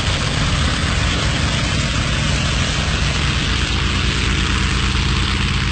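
Carrier-based US warplanes starting their takeoff to attack the Japanese fleet, a steady, loud, continuous engine and propeller drone with a deep low rumble that holds unbroken throughout.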